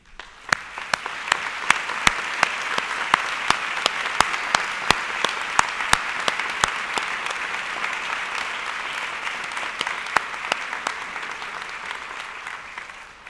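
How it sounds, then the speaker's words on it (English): A large audience at a college commencement ceremony claps in sustained applause, dense and even with a few sharper individual claps standing out, lasting throughout before fading at the end. "I invite the audience to join me in a round of applause"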